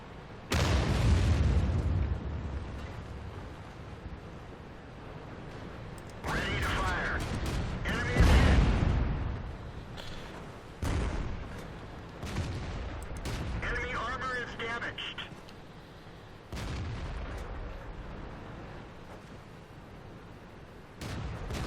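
Tank cannon fire in World of Tanks, a Renault G1 R battling on the Pearl River map: several heavy booming shots spaced across the stretch with engine rumble between, while someone talks over it.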